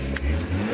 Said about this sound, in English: test the revs of the car